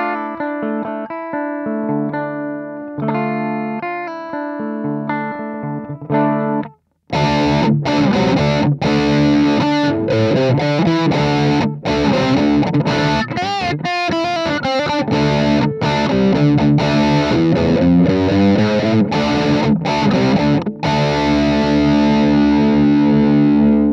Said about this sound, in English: mostly I use this pedal as a distortion pedal,